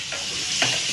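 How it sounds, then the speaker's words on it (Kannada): Vegetables fry in a pan for a chapathi veg roll, making a brief steady hiss of sizzling with a soft stir scrape partway through. "ಸ್ವಲ್ಪ ಹೊತ್ತು ಫ್ರೈ ಆಗಬೇಕು"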